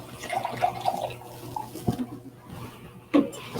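Liquids pour into containers for a chemistry demonstration at a science carnival, a close, steady trickling and splashing with a few drips and a louder splash near the end.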